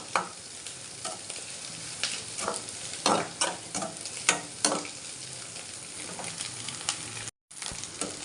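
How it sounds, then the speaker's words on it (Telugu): An egg fries in a pan with a continuous sizzle, punctuated by irregular scraping and stirring strokes of a utensil at close range, with a brief gap near the end. "ఎగ్ మొత్తం ఫ్రై అయిపోయింది."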